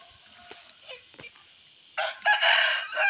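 A native chicken rooster crows loudly near the end, preceded by scattered soft clucks and faint chirps from hens in a quiet yard fenced with fishing net.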